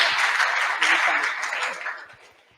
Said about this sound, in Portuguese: Uma salva de palmas, gente, vamos receber.